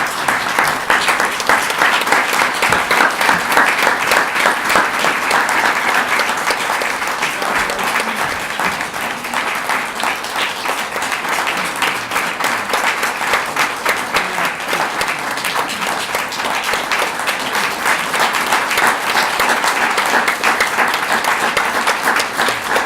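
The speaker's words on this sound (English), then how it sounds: "It's time to show our appreciation by a round of applause for Carolyn and" Sustained applause from a seated audience honouring Carolyn and Cy King at an award ceremony, a dense, steady roar of many hands clapping that holds at an even level throughout with no break.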